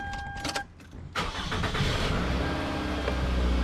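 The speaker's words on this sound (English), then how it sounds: "Okay, I'll start up the vehicle." A 2005 Toyota Camry's engine cranks briefly after a quiet moment, then catches and settles into a steady, close idle hum that runs to the end, with no talk over it.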